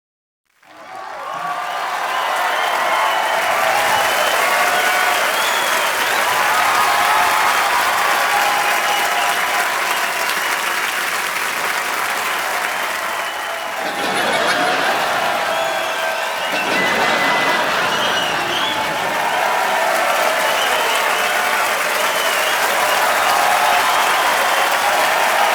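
Loud, sustained studio audience applause for actor Anil Kapoor on a comedy talk show, a dense wash of clapping hands with light cheering running steadily throughout, dipping briefly midway before swelling again.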